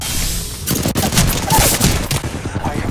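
Rapid, loud gunfire from the battle royale game Apex Legends forms a dense, continuous fusillade close up that fills almost the whole moment.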